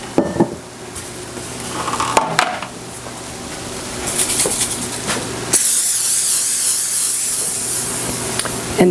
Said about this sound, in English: I'm lining it with parchment paper, but I'm also going to spray this with cooking spray